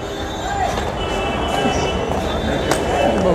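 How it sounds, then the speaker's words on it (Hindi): A Delhi underground metro train runs with a continuous dense rumble and faint thin squealing tones, while voices murmur faintly underneath. "हां तर अंडरग्राऊंड मेट्रो आहे ही।"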